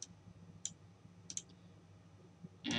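A computer mouse clicked on an OK button in statistics software, a few crisp, close single clicks spaced apart in a quiet room.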